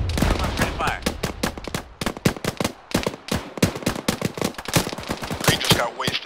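Heavy gunfire in a military video game, dense rapid bursts of automatic weapons and overlapping shots, loud and nearly continuous with brief gaps, with voices talking in the background.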